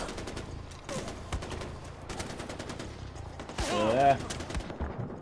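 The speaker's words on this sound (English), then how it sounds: "He's shooting at us." Enemy gunfire in the Far Cry 4 video game: scattered shots crackle through dense game ambience, with a voice speaking briefly and a louder burst near the end.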